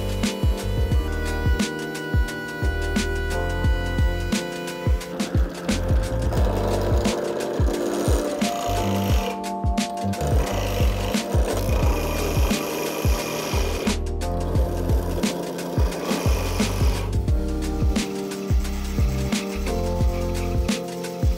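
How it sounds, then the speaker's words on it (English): A small chamfer is cut on the edge of a wooden egg cup, making a loud, continuous grinding and rasping of wood with rhythmic pulsing and a few brief breaks. "I'm going to put a small chamfer on the edge"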